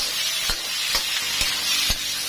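Chicken is stir-fried in a hot pan with a loud, steady sizzle and hiss. A sharp scrape of the utensil lands roughly every half second, close by, with no voices.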